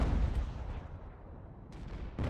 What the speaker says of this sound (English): The artillery is definitely pummeling us